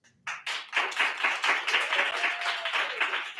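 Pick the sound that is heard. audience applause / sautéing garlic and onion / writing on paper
audience applause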